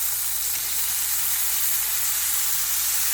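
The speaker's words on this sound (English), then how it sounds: "Just got through beating up some deer steaks here. Getting ready to put them in the skillet here. Got Mr. Sizzling going." Tenderized deer tenderloin steaks sizzle in a hot skillet, a steady, close, even hiss of frying with no talking.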